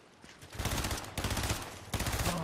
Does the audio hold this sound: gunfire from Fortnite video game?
yes